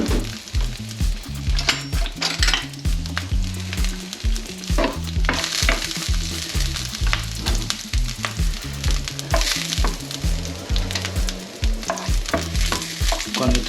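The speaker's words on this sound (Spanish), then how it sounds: "Ya tenemos el fuego fuertecito y echamos primero los ajitos que lo hemos picado." Chopped garlic hits oil in a pan over fairly high heat, giving a steady close sizzle and frying crackle throughout, broken by repeated stirring scrapes and taps.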